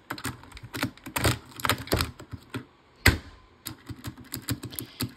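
Rapid clacky keystrokes on a mechanical keyboard in uneven bursts, with a louder thunk from a heavier key midway, close up and with no voices.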